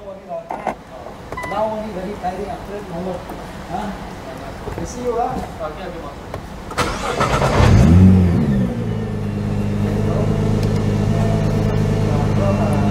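A 2017 Nissan GT-R R35 Nismo engine cranks and catches partway through, then settles into a loud, steady idle close by, with someone talking beforehand.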